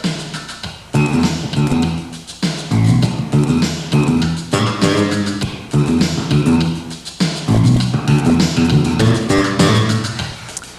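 Bass guitar lines placed between kick drum hits in a steady groove with drums, loud and continuous in repeating phrases, with no voices.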